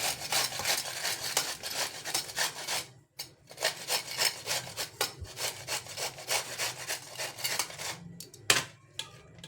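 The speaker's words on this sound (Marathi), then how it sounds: "कैरीचं साल काढून झालं आहे आपल्याला आता खिसून घ्यायची मोठ्या खिसणीने खिसायची" Peeled raw mango being grated on a large grater, a steady rhythmic rasping of repeated strokes, close and fairly loud, with a short pause partway through and no talking.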